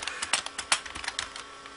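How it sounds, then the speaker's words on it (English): Someone types on an IBM PCjr keyboard, sending out a close, uneven run of clacky keystrokes with some louder presses, and nobody speaks. "The problem I'm running into is trying to type."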